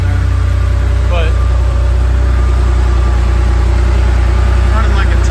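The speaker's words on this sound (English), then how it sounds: "she's definitely not very loud with that stock exhaust on there" A 1985 Porsche 930S idles with its stock exhaust, a steady, fairly subdued low rumble running continuously and close throughout.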